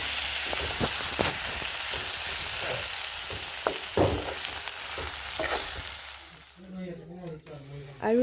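Vegetables sizzle and crackle in an oil pan on a home kitchen stove while being stirred, with irregular scraping strokes over steady frying. A voice speaks briefly near the end as the sizzle drops away.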